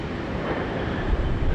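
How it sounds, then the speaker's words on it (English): Qantas Boeing 787 Dreamliner departing Sydney Airport for London Heathrow as flight QF1, with other airliners taxiing nearby: a steady, broad jet roar with low rumble and some wind buffeting, distant and continuous. "We've got the Qantas Dreamliner heading off to London Heathrow flight QF1."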